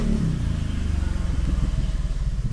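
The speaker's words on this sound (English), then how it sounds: "motorcycle, you're so loud" A motorcycle engine rumbles loudly up close with a pulsing, throbbing rhythm, gradually easing as it moves along.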